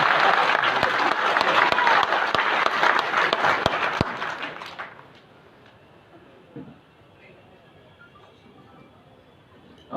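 Audience applause at a political rally in Madhya Pradesh, a dense burst of clapping with a few sharp claps standing out, fading after several seconds into quiet crowd murmur.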